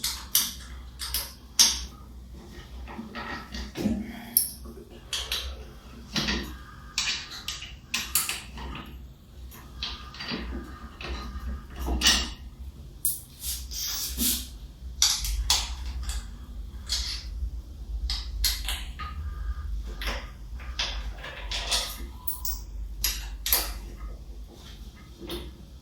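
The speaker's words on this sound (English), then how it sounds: "using your 5mm hex bit, remove the back panel by opening these 4 bolts" A 5mm hex bit turns out the four bolts holding the back panel of a Herman Miller Aeron chair, giving repeated creaking, ratcheting clicks and metallic scrapes at close range, in irregular bursts throughout.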